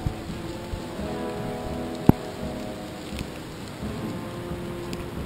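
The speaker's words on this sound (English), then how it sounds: "And it's pouring and raining." Steady rain falling in a Florida Everglades swamp with a soft continuous hiss, one sharp drip or knock standing out, no voices, moderately quiet.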